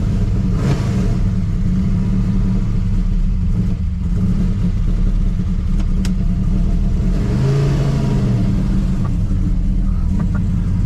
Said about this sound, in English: Little tire spin, I guess.